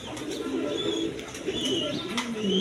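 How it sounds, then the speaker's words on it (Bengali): A pair of uncommon down-face pigeons coo in a low, repeated murmur, steady and close throughout, with some faint higher chirps above. "বন্ধুগণ এখানে এক পেয়ার কবুতর আছে, ডাউন ফেস কবুতর, আনকমন কবুতর"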